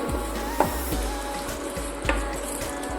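Panch phoron five-spice and a dried red chilli fry in hot oil in a home kitchen, giving a steady close sizzle broken by a couple of sharp pops and clinks.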